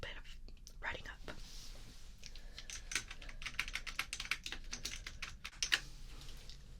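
Keyboard typing while a doctor writes up notes during an urgent care checkup roleplay, quick soft key taps in irregular bursts, close and quiet, with faint whispery breaths mixed in.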